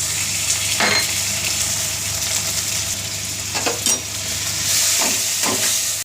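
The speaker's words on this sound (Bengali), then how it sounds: "একই সঙ্গে দিয়ে দেবো টমেটো কুচি।" Chopped tomato added with onion, ginger and garlic paste sizzles steadily while being stirred in a wok for a cabbage dhoka curry, with a few scraping stir strokes of the spatula against the pan cutting through the continuous frying hiss.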